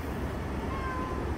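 A cat meows in a motel room, a thin rising cry heard up close over low steady room noise.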